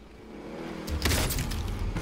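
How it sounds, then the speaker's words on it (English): A car striking the player in the Call of Duty Warzone video game, a sudden loud crunching impact with engine rumble after a low ambient stretch, followed by continuing noisy clatter. "Sounds awesome when you get hit by a car too."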